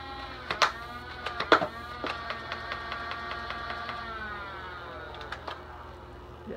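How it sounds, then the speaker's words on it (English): A Nerf Modulus Regulator blaster spins up its flywheels with a whirring motor rev, then fires a quick burst of sharp thwacking shots before winding down, close and moderately loud. "Rev trigger, and then firing trigger."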